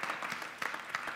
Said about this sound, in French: Merci d'avoir monté le volume des applaudissements tranquillement, c'est apprécié.